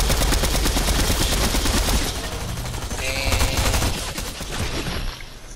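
Rapid automatic gunfire rattles in a Fortnite match, dense bursts of loud close shots for a couple of seconds, then more scattered firing that tapers off.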